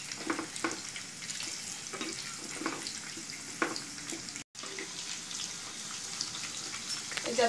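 Sliced onions frying in a pan for soya chilli, a faint crackling sizzle with scattered stirring clinks and taps, fairly quiet and continuous.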